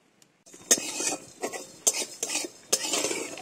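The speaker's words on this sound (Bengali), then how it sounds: "আমাদের মশলাটা খুব ভালোভাবে ভাজা হয়ে গেছে," A utensil stirs and scrapes spices frying in ghee in a pan for Bengali muri ghonto, with bay leaf, dried chillies and chilli and turmeric powders. There are several close, irregular scraping strokes with a faint sizzle between them.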